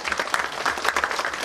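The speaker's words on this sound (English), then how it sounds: "So give me a round of applause please for explaining." An audience gives a short, steady round of applause, dense clapping from many hands filling the space without pause.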